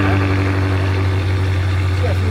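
A car engine idling with a steady low hum and even drone, unchanging throughout.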